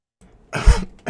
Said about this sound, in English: Sorry, coughing right when I pushed the button.